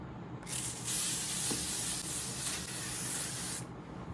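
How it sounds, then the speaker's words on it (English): L'Oreal Paris Infallible 3-second setting mist sprayed over a face, one continuous close hissing spray lasting about three seconds, alone and loud. "I'm here using L'Oreal Paris ka Infallible 3-second setting mist. So I'm gonna apply on my all over the face like this."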